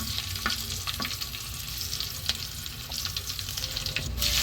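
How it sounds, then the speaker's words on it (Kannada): Garlic roasting in hot oil for a restaurant-style fish fry masala, a steady close sizzle with scattered spatula taps and scrapes throughout, no voices. "ಬೆಳ್ಳುಳ್ಳಿ ಹಾಕಬೇಕು ಆಮೇಲೆ ಸ್ವಲ್ಪ ರೋಸ್ಟ್ ಮಾಡಬೇಕು"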